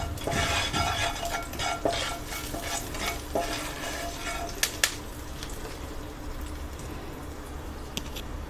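A potato and spice mix with rock salt and a little black pepper is stirred in a pan for fasting-style spiced potatoes, a steady scraping sizzle with occasional spoon clinks against the metal.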